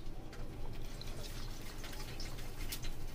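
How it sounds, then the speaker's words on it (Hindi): Cold water pours steadily into a glass of mango sharbat, a continuous soft splashing and trickling with scattered drips, close and quiet for about three seconds. "ये देखिए ठंडा पानी डाल देंगे,"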